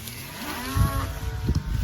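A mob of grazing cattle bawls and moos across an open pasture by a pond dam, low drawn-out calls overlapping at moderate distance, with no one speaking.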